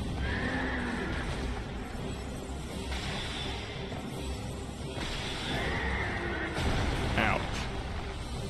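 Horse neighing in the video game Dark Souls II, a couple of whinnies standing out over a steady ambient game backdrop, with a person talking throughout.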